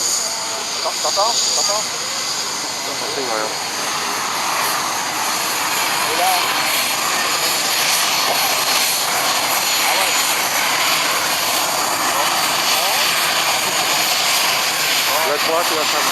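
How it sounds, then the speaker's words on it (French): Supermarine Spitfire, the only French example, flying at the 2010 Rennes air show: a steady, loud engine roar fills the whole clip, with crowd chatter and talk over it. "Voici donc le seul Spitfire français."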